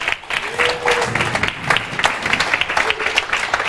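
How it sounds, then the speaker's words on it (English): An audience at a holiday camp show claps in a scattered, moderately loud round of applause, with some voices and murmurs mixed into the clapping. "A round of applause,"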